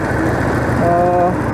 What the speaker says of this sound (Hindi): अच्छा, आपको एग्जॉस्ट नोट सुनने को देता हूँ। Let's hear the exhaust note.